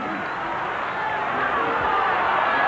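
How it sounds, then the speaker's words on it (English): Stadium crowd at a 1991 Winfield Cup rugby league match between Canterbury and Illawarra, a broad sustained roar that grows slightly louder, with a commentator's voice over it. "the crowd roaring for a penalty, trying to get referee Ward to check his 5 metres"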